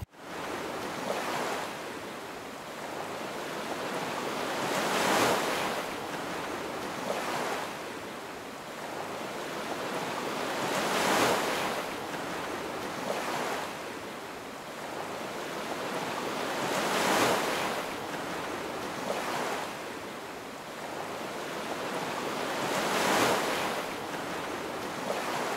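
Ocean waves roll onto the beach at Langebaan in the Western Cape, with surges breaking every few seconds and a steady background wash, moderately loud with a little wind noise.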